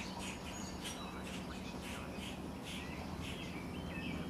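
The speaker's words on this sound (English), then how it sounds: "Oh, the birds, they're getting ready for their Alfred Hitchcock audition" Birds chirp and tweet outdoors by a farm, a steady chorus of small calls scattered over a constant background hiss, moderately faint and fairly distant.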